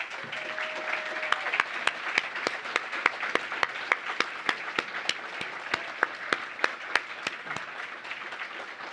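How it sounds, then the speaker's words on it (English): An audience at the E Squared finals gives a sustained round of applause at moderate level, with sharp rhythmic claps ringing out at a steady beat above the wash of clapping. "let's give everyone a big round of applause"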